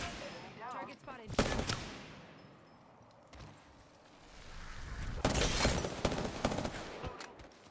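Rapid automatic gunfire bursts from the Apex Legends video game, a loud volley near the start and a longer sustained burst near the end, with game effects and clatter in between.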